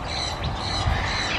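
A parrot with green and blue head and white and black beak gives a loud, harsh, raspy squawk held through a second and a half at close range.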